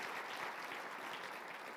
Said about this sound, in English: I'll give him a round of applause for that.